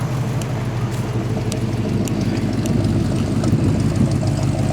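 A 1985 K5 Blazer's deep, rumbling engine idles steadily and loudly close by, with a throaty, uneven burble from its custom, nearly straight exhaust with glass packs.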